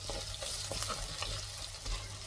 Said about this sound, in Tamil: கொஞ்சம் வதங்கிடுச்சு, இன்னும் கொஞ்சம் வதங்கட்டும்.